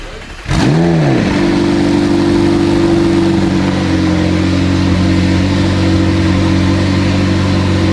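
Rebuilt engine of a crash-damaged McLaren 720S cranks and fires, then settles into a loud, steady, throbbing idle with a strong low hum that holds close by without talk.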